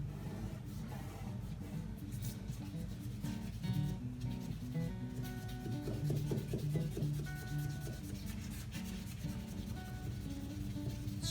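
Rag rubbing wood stain into a crack in reclaimed headboard wood, a continuous scratchy rubbing and scraping with rhythmic strokes and occasional knocks, close and fairly quiet.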